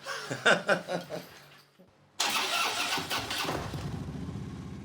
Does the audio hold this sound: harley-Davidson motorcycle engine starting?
yes